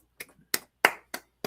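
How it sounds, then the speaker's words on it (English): Five slow, light golf claps, close and isolated, spaced about a third of a second apart in otherwise quiet surroundings while following a Cardinals versus Yankees baseball game. "Golf clap, baby."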